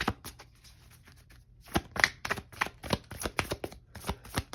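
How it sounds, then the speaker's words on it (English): Oracle cards from a Moonology deck are shuffled in a series of crisp, snapping riffles and flicks, close up, speeding into a quick rhythmic run after a quieter start. "now I'm just shuffling the Moonology deck from Yasmin Boland"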